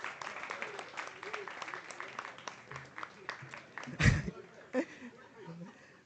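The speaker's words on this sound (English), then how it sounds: "If you all can hear me, please keep clapping for yourselves." Scattered clapping from a debate finals audience, uneven and moderately loud at first, then thinning out, with a loud knock or thump and some murmuring voices afterward.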